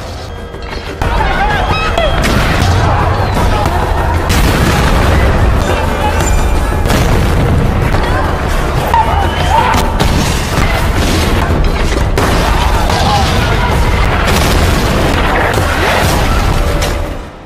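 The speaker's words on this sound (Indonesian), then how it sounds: "Ledakan mulai merusak desa" Repeated heavy war explosions rumble continuously as a village is destroyed, dense and loud, with crashing debris layered between the blasts.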